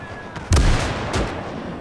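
A cannon blast booms in a World War II strategy battle, a sharp heavy shot followed by a rumbling tail and a fainter second report a moment later, loud and close.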